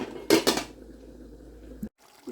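A cooking pot of chickpea pulao set down on a hot griddle with a couple of sharp metallic clanks, followed by a soft low hiss and a brief scrape.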